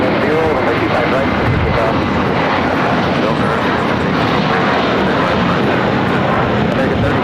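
An American Airlines airliner at LAX, bound for JFK, roars loud and steady for the whole stretch, a thick unbroken engine rumble.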